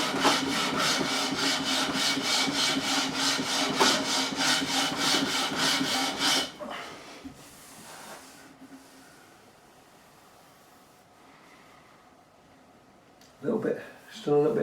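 Coarse sandpaper is rubbed in fast, rhythmic back-and-forth strokes on the wooden neck of a Warwick Corvette bass, loud and close, then it stops and a few faint handling noises follow, with talk in the clip.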